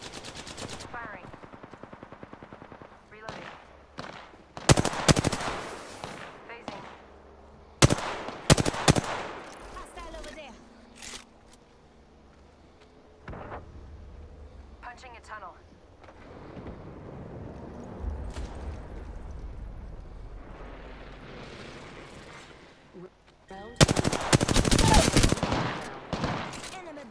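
Gunfire in the video game Apex Legends comes in sharp, loud automatic bursts and single shots, scattered across the clip between quieter stretches of game ambience.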